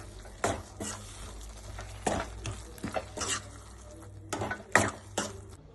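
A spoon scrapes and clinks against a pan as tomato gojju with sugar is stirred, coming in several distinct sharp strokes with quiet sizzling in the gaps.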